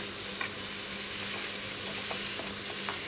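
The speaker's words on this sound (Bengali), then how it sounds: "এই আলুগুলোর সাথে মশলাটা আমি আরও 2 মিনিট একটু কষে নেব।" Potatoes sauté with spices in a pan for aloo dum, giving a soft, steady sizzle with a few light scrapes and clicks of stirring, fairly quiet and without talk.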